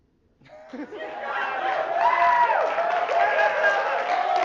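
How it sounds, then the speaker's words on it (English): Men in a stand-up comedy club audience clap and cheer, the crowd noise swelling from near silence into a steady, fairly loud roar of applause and whoops that holds to the end. "that's a lot of guys clapping"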